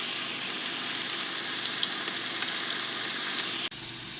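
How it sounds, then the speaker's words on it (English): Salmon frying in a pot, a steady loud sizzle and crackle of hot oil that holds evenly throughout, then drops abruptly near the end as the sound quiets to a softer hiss. "we'll get that to fry until all is brown"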